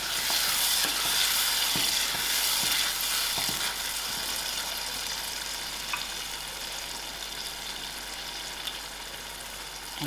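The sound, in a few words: stirring chickpea chutney with tomatoes cooking in a pan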